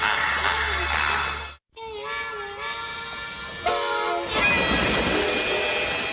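Cartoon freight train rolling past on rails, with a loud steady rumble, tonal horn-like lines and a brief cut, building toward a louder rush near the end; no talk.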